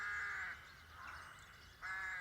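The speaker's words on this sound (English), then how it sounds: "you can hear the crows very plain from the island" Crows caw from a roost on a lakeside island, heard as a few drawn-out, rasping calls carried from a distance with faint chatter from the flock between them.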